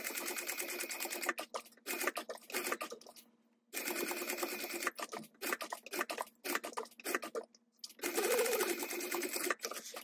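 Domestic sewing machine basting the side seams of a fabric hydro pouch bag, running in several bursts of rapid, steady stitching with short pauses between them, close and clear with no talking.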